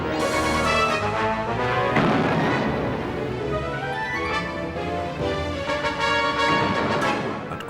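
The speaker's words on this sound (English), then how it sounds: "The two ships blazed away at one another." Heavy naval gunfire as the cruiser Cornwall's 8-inch guns trade shots with an enemy raider, a continuous loud barrage of booms and blasts layered over a dense rumbling din.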